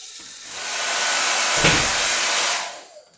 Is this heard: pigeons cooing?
no